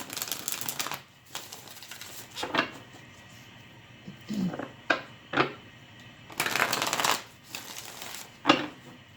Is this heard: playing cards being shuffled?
yes